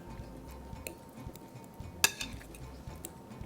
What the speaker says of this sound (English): mash just with a fork